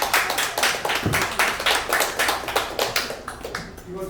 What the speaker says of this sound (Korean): 지금 여성회장님께 박수 한번 쳐주십니다.